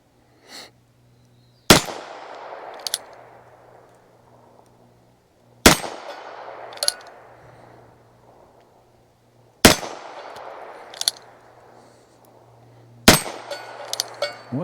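Ruger Super Wrangler .22 Magnum revolver fired at a steel gong target outdoors: four sharp shots spaced a few seconds apart, each followed by a ringing metallic clang and decaying hum, with smaller pings between.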